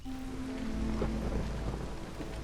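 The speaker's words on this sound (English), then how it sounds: "Another storm coming." A storm in the game Against the Storm, with steady rain over a low, continuous thunder rumble and a faint tonal hum, no voices.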